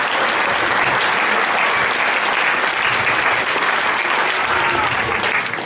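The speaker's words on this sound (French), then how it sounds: "Alors là, Maïté, on va l'applaudir aussi très fort." A gala-evening audience applauding Maïté, a loud, dense and sustained wash of clapping from a full room that holds steady throughout with no pauses and no speech over it.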